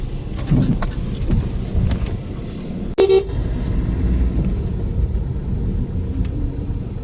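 A car rolls along a road with a steady low engine and road rumble, a short horn toot cutting in midway and a faint jangle near the start, fairly loud and close throughout.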